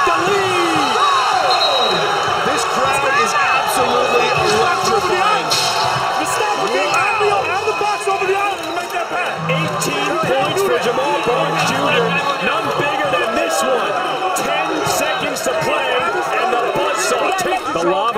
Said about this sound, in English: Do you hear this crowd? It's a buzzsaw crowd.